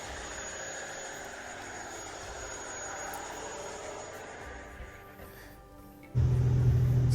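Steady, droning engine noise fills a Nordhavn 68 motor yacht's engine room with a broad mechanical hum, then a louder low rumble kicks in near the end.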